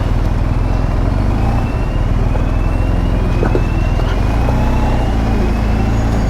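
Dense, loud traffic rumble at the Tijuana border crossing into Mexico during a busy hour, heard from a BMW R1250 GSA motorcycle, with droning engines, a steady low hum and passing vehicles throughout.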